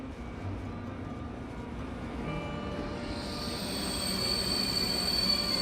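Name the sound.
KTX high-speed train in South Korea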